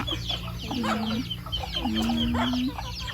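Chickens clucking busily at close range on a rural farm in Laos, with a steady murmur of other birds and farmyard noise underneath and a couple of drawn-out calls standing out.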